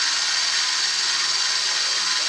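A lathe cuts at about 1050 RPM, producing a loud, continuous hissing cut that holds steady throughout with no talking.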